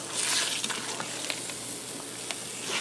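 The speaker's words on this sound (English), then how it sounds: "And you hear how sizzling hot that got just from that 5 minutes" Steady sizzling and crackling of spaghetti frying in a hot Ninja Foodi pot, with occasional scrape and pop sounds, close up and without any voices.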